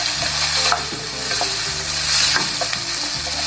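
Onion and tomato sizzle and sauté in a hot pan for a ridge gourd and egg stir-fry, with a steady frying hiss and occasional scraping stirs.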